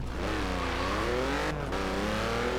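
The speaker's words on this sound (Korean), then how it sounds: "오늘은 BMW i8 어, 로드스타인가요? 예, 이 차량으로 주행 연습을 좀 해보겠습니다" A BMW i8 Roadster driven in Forza Horizon 4 on a snowy road, its engine droning loud and steady with rising and falling revs and a brief gear-shift dip midway, close and continuous.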